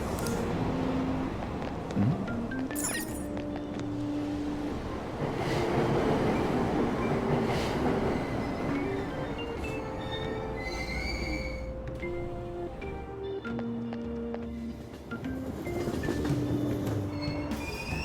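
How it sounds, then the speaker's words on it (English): A subway train departing a station in the Persona 5 Royal video game, a continuous rumble of rolling wheels with metallic squeals and whining tones building and fading, fairly loud, with no voices. "Train doors are now closing. Please stand back."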